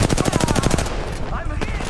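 Rapid automatic gunfire in a shooter video game rattles off in a fast, loud burst of evenly spaced shots, then stops and gives way to quieter game sounds.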